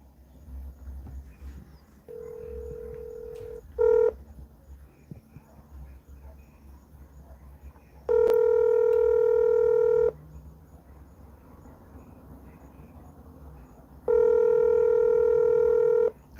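A telephone number is punched in as DTMF keypad tones, with a short beep pair first and then two loud, sustained multi-tone stretches separated by quiet gaps, heard up close and alone.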